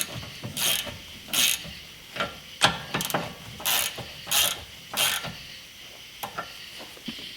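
A ratchet tightens a steering tie rod adjustment back up, with quick bursts of close, clicking pawl strokes repeated in an irregular rhythm and short pauses between.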